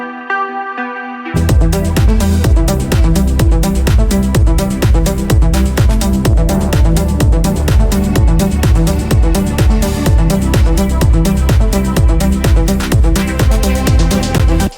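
A synth melody played on an old version of the Alchemy plugin enters after a short quiet intro, then runs loud and steady with a driving, rhythmic pulse of repeated notes under a dense, full texture.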